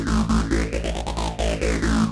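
Synth bass from a keyboard patch run through a phaser, its pulsing low notes repeating in quick rhythm while a sweeping, whooshing phase shift rises and falls over them, close and loud with no voices.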